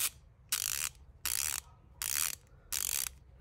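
A Mac Tools ratchet clicking in four quick bursts of rapid pawl ticks, evenly spaced with short pauses, close and crisp with no talk.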